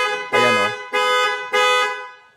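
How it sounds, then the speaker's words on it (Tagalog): A car horn triggered remotely from a phone app blares three loud, close honks in quick succession, each held for about half a second with short gaps between them. "mayroong horn button dyan sa baba."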